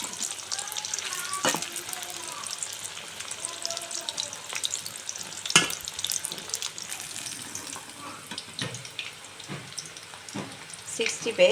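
Jackfruit 65 sizzling in hot oil as it is stirred, a steady frying hiss with scattered scrapes and clinks of a utensil against the pan, fairly close and alone with no voices.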